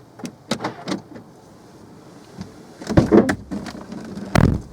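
A Volkswagen Golf's central locking engages on its own, giving a few short, close mechanical clunks and whirs from the doors, with a quiet pause between the clusters.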